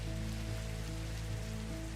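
Rain in Minecraft falls as a dense, even patter that fills the whole stretch, steady and moderately loud, with a faint low hum underneath and no talking.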